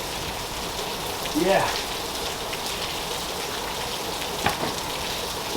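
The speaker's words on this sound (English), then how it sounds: "The rain continues to come down in sheets and buckets." Heavy rain pouring down outside a garage in sheets, a steady dense hiss throughout, with a brief voice and a few small knocks over it.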